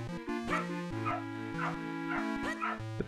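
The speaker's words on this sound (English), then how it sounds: "The puppy just keeps on barking and barking, doesn't she?" A puppy barks in The Legend of Zelda: The Minish Cap video game, sounding as a steady run of about five short, high yips over continuous chiming game music.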